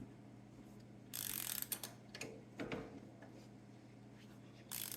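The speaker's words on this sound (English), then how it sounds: "Got to remove this bolt right here that holds the pins, that holds the motor." A wrench works loose the bolt holding the engine mount on a Troy-Bilt tiller, giving a few quick ratcheting clicks and metallic taps close by, then low steady background hum with no talking.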